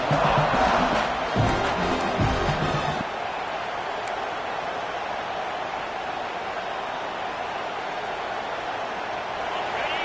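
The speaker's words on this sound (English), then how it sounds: "the crowd really making some noise now, trying to help out this defense to get this stop near the goal line" Stadium crowd at a football game roars loudly as the defense tries for a goal-line stop, a dense sustained wash of noise with a louder burst of yelling in the first three seconds before settling into a steady far-off roar.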